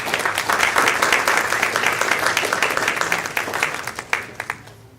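Audience applause at the Ja'faria School of Central Jersey 2025 graduation welcoming the school principal, a steady roomful of clapping for about four seconds that thins out into a few scattered final claps before fading.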